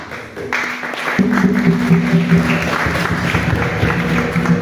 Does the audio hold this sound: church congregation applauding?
yes